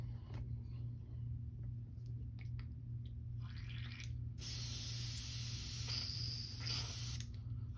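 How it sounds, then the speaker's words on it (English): An airbrush is cleaned of paint after painting a custom crankbait, giving short bursts of sharp hissing spray that end in a longer sustained blast over a low background hum, close and fairly faint. "I'm gonna clean this out of my airbrush"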